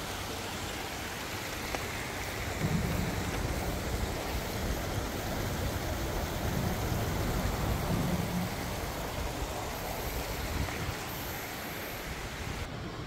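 Water streaming down a roadside wall along a bike route in Korea, a steady broadband rush and splash that stays at an even, moderate level throughout with no voices.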